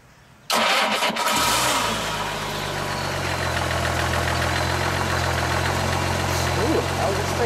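1964 Ford Thunderbird hardtop engine cranks and catches after a short quiet moment, then settles into a steady, smooth, loud idle that continues to the end, with people talking faintly over it.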